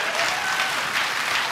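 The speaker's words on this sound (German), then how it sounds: "Und Applaus, ja, meine Damen und Herren." A TV studio audience applauds at a German television show, a steady, dense wash of clapping that holds at an even level from start to finish with no voices standing out.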